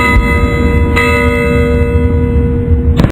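Loud, ringing church bells peal with long sustained tones, new strikes landing near the start and end over a dense, resonant wash.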